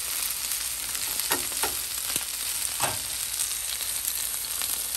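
Chicken pieces fry in a pan with a steady, loud sizzle, broken by a few sharp crackles and stirring scrapes.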